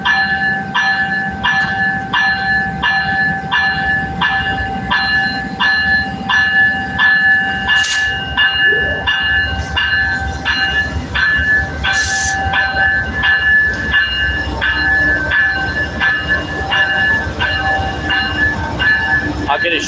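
A train with an old-style car passes close by at an Amtrak layover in San Antonio, Texas, its wheels clicking in a steady rhythm over rail joints with brief high squeals, a continuous rolling rumble and faint voices in the background.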